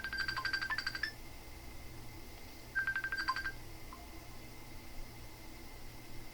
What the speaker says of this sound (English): I should know better than to leave my phone on when I'm doing a reading